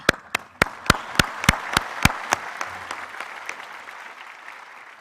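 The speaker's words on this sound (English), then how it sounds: "I want to applaud you myself today" A burst of steady hand clapping at a graduation ceremony, crisp individual claps in quick rhythm, gradually fading and thinning out toward the end.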